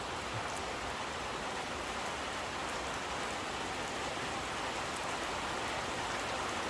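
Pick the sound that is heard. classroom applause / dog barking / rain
rain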